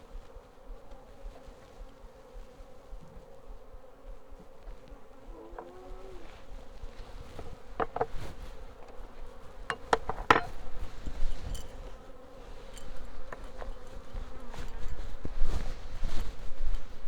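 Honey bees buzzing around an open hive on a homestead, a steady droning hum with individual bees passing close and louder, rising toward the end.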